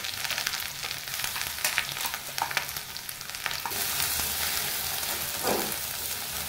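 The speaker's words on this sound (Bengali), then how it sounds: "ভালো করে ভেজে নিচ্ছি" Coffee leaf and garlic paste frying in a pan, a steady dense sizzle with scraping stirs from a spatula, close and continuous with no talking.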